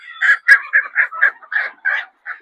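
Desi Sonali hens on a poultry farm give a run of about eight close, repeated clucking calls in quick succession, loud and clear with no talking over them.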